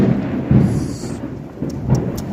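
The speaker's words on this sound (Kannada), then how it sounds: "ಸಿಡಿಲು ಕಾಣಿಸ್ತಾಯೋ, ಕೇಳಿಸ್ತಾ ಫ್ರೆಂಡ್ಸ್ ಸಿಡಿಲು?" Thunder rolls during a rainstorm, low rumbling swells rising and falling over the constant wash of rain.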